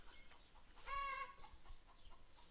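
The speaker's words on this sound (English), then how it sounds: "Can you hear my chickens?" Soft, distant clucking from chickens, with one drawn-out cackle standing out briefly against a quiet outdoor background.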